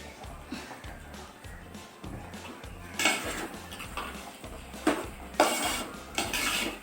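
Chickpea payasam being stirred in a pan with a spoon, giving soft repeated scraping and clinking of metal against cookware, with a few louder knocks, close and steady without talk.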